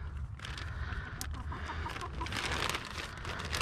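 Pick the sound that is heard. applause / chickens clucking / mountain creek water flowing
chickens clucking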